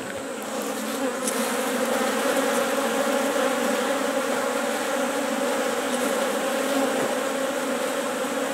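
Honeybees buzz steadily around a hive where a new queen is being introduced between the frames, a dense continuous drone with no talk, holding even and close throughout.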